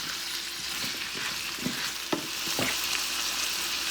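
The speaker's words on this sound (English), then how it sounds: "the reason why I put my vegetables in right behind the garlic" Vegetables and garlic sizzle as they fry in a pot for chicken stew, a constant crackling hiss with a few light clicks of stirring.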